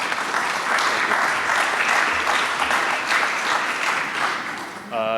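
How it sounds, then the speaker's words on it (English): Applause from the audience at a start-up pitch showcase, a steady wash of many clapping hands that fades slightly before a voice begins speaking at the very end. "All right, please give another round of applause to Gurinder."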